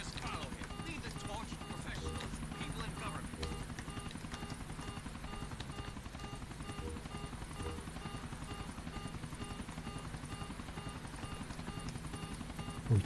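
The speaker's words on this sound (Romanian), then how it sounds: "S-a stricat și elicopterul. Se aude sunetul ăla" A damaged helicopter in GTA The Ballad of Gay Tony keeps up a steady, rough rotor chop with a constant whine through the whole stretch, while someone talks over it.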